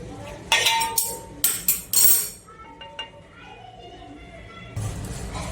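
Metal utensils clink and scrape against a pot while cooked Kathiyawadi lapsi is moved into a serving vessel, several sharp ringing knocks in a cluster followed by softer scraping.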